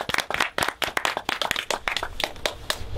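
An audience at a Conscious Tribal Gathering festival session breaks into brisk, dense clapping, a close burst of many hands with no voices over it.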